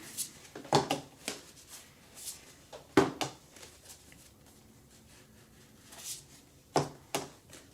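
Tarot cards shuffled by hand in a quiet room, making soft papery riffles and taps in several short bursts separated by pauses, fairly close and moderately quiet.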